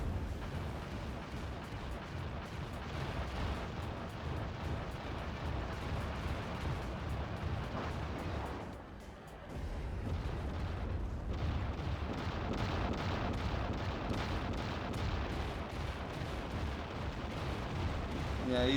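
Explosions and artillery fire from the Act of Aggression real-time strategy game, with prototype vehicles and heavy tanks under attack, form a dense, continuous barrage of booms that dips briefly midway, and a voice talks over it.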